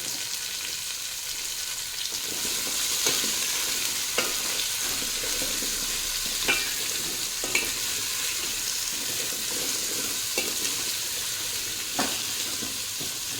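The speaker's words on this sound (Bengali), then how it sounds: "বেশ খানিকক্ষণ একটু হাই ফ্লেমে ভেজে নিতে হবে।" Vegetables frying on high flame in a pan, a continuous close sizzle with periodic scrapes and stirs of a spatula, no voices over it.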